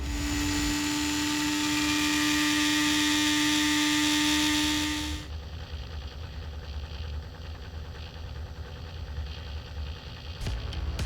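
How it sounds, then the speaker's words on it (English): An ECM PCB stator electric motor running: a steady whirring hum with tonal whine, loud for about five seconds, then dropping to a quieter, broader mechanical drone. "ECM PCB Stator motors operate at significantly lower decibel levels than the conventional machines"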